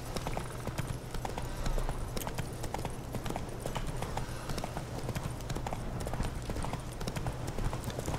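Roach, a horse in The Witcher 3, gallops steadily with a fast, continuous drumming of hooves close by, and faint talk underneath.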